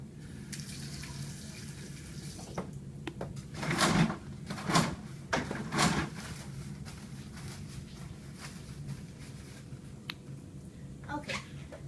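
Water runs from a tap as hands are washed before a clinical heart assessment, a steady hiss with a few louder splashing bursts in the middle and faint clicks and handling noises, no talking.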